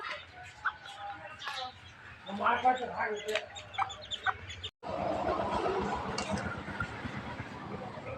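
A local chicken clucks in short, fairly close bursts, with voices talking in the background and general rural household noise underneath.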